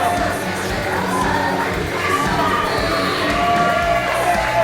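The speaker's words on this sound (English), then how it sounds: "You can hear the fans and their admiration for Arie and Pillman Jr." A wrestling crowd at a mixed tag match cheers and shouts loudly in a continuous swelling roar of voices, with a few higher children's yells carrying through.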